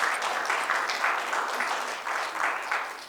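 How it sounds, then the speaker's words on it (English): An audience at the Mastercam 2025 rollout event applauds the team with continuous, moderately quiet clapping from many hands. The clapping runs evenly throughout and eases off slightly at the end. "If you would like to help me give a round of applause to the team."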